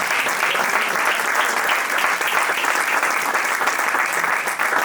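A congregation at a Hindi-language church service claps for the Lord, a loud, continuous burst of many hands that holds steady from start to finish without any voices over it.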